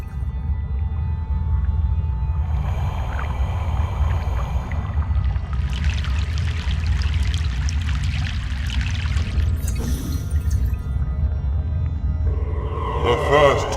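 Water splashing and rushing as a boat crosses a river in the video game Broken Sword 3, a continuous loud churning wash over a deep droning rumble, with swelling surges of spray.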